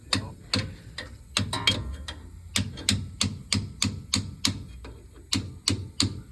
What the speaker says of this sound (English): what Mike's using is he's using what they call a differential hammer or a race hammer